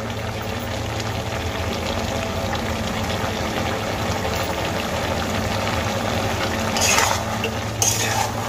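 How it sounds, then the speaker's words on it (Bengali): Cumin powder stirred into greens frying in a pan, a steady low sizzle and scraping stir running throughout, with a couple of brighter clinks of utensil against metal near the end. "আমি এখানে জিরের গুঁড়ো দিয়ে আবারও কিছুক্ষণ খুব ভালো করে নাড়িয়ে চাড়িয়ে নেব"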